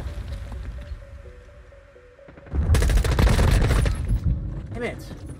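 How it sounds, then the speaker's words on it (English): A dropped grenade detonates in the video game Modern Warfare 2: a sudden loud, crackling blast with gunfire-like bursts that lasts several seconds, following a quieter stretch of game sound. "Oh, I dropped my grenade."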